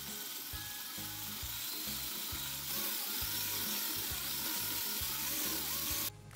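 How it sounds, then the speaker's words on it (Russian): An electric mixer whirs steadily as it beats cake batter with baking powder, vanilla and flour, with a rhythmic thumping knock of beaters in the bowl and a slight rise in pitch partway through, close and without speech. "Все хорошо взбиваем."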